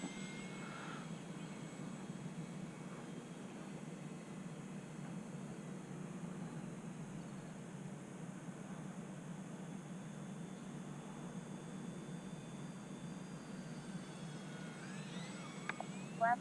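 A small E-flite UMX Air Tractor RC airplane cruising slow and low: a faint, steady motor drone with a thin high whine, continuous and distant throughout.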